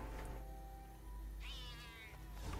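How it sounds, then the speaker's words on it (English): A pet cat meows once for attention, a short rising-falling call fairly close, over a steady low hum of room noise. "The kitty cat wants attention, and he wants it now."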